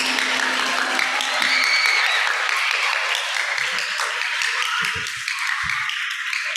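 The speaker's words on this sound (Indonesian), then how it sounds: "kita beri tepuk tangan untuk Pak Teguh hari ini." An audience at an anti-bullying seminar applauds, a dense burst of clapping that thins out and fades after a few seconds, leaving a few scattered claps and taps.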